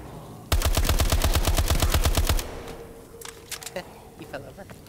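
Call of Duty Advanced Warfare zombies mode: a loud automatic weapon fires a fast, steady burst of about twenty rounds, then stops for a reload, followed by scattered fainter shots and clanks.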